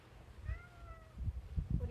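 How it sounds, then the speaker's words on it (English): A house cat on a sheep farm gives a short meow, a rising then falling cry close by, over low rumbling background noise. "Oh my God, you're such a good cat."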